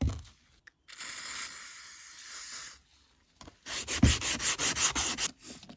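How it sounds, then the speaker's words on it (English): Wet sandpaper with WD-40 rubs a part of a Lucas RS1 magneto, first as a long smooth stroke and then as a quick series of short rhythmic scrubbing passes, close and clear. "I'm going to try wet sanding it with WD-40 and sandpaper"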